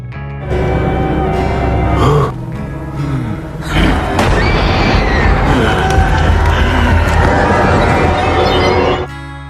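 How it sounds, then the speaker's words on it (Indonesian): A dynamite explosion in a Western setting, a rumbling boom-laden roar with thuds and crowd-like noise that swells for several seconds, pauses briefly, then surges again before cutting off. "Kanaan pun terbangun karena suara ledakan di kejauhan"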